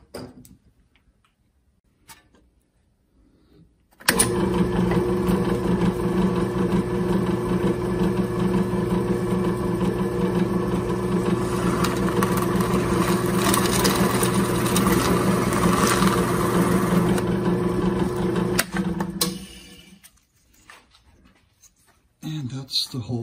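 A step drill bores a half-inch injection port hole for a mushroom liquid culture jar, a loud steady whirring grind that starts abruptly, runs for about fifteen seconds and then cuts off into near silence.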